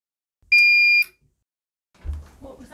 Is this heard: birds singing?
no